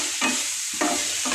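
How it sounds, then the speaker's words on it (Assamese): Cauliflower and cabbage with a little sugar being stirred and fried in a pan: three quick scraping stirs over a continuous close sizzle. "এইখিনি ভালদৰে লৰাই মই ভাজি ল'ম"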